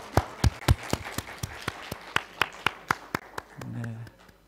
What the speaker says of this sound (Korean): 우리 다 같이 한번 박수로 한번 격려하겠습니다